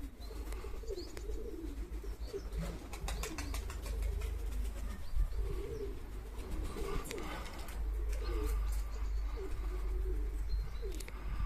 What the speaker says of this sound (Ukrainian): Трошечки торкнув голубів